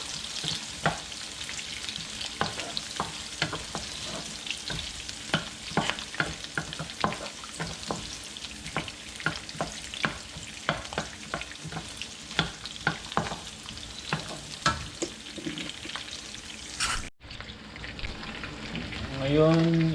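Sliced onions sauté in a pan of oil reused from frying fish for a fish pochero, giving a steady close sizzle broken by repeated spoon scrapes and stirs, with a short drop in sound near the end.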